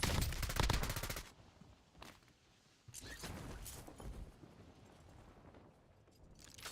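Rapid automatic gunfire from a Call of Duty Warzone SMG-style loadout, a dense loud burst at the start followed by scattered shots and game effects at mid distance.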